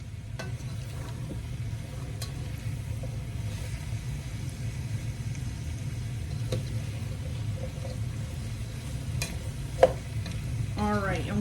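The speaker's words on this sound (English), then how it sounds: "let's give this a little stir" Leeks and potatoes being stirred in a pan for Irish leek and potato soup, a soft low sizzle under a steady rumbling hum, with occasional light utensil taps and one sharp knock.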